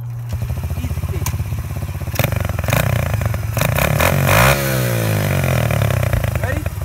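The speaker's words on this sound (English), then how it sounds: "My new dirt bike," Coolster 125cc dirt bike engine running close by, a rough idle that breaks into sharp revs and clatter, with a person talking over it.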